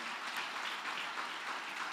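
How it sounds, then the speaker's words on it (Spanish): Church congregation applauding during a sermon, a soft, even wash of many hands clapping, steady and somewhat distant, with no speech over it. "denle un aplauso al Señor"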